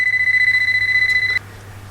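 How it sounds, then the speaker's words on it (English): A loud, continuous high-pitched electronic tone from a Deteknix Scuba Tector metal detector, warbling slightly, holds for over a second and then cuts off abruptly, leaving a low hum. "I had the beeping going on. The detector was detecting something."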